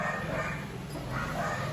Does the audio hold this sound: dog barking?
yes